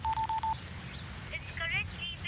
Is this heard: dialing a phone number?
yes